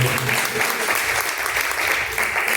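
A church congregation claps in praise during a live worship service, a loud continuous wash of hands with a low murmur of voices beneath it.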